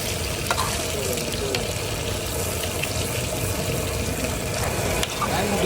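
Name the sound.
stirring food while frying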